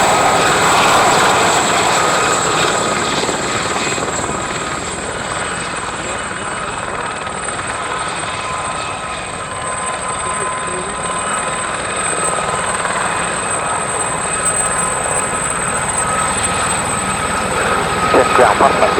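Three Gazelle helicopters taking off from a runway on airshow departure day, a loud continuous rotor and turbine drone holding steady throughout.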